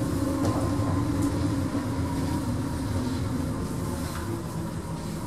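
The Air-Rail Link cable-hauled shuttle from Birmingham International slows as it comes into Birmingham Airport, a steady loud rumble and rolling hum heard from inside the car, with no talking.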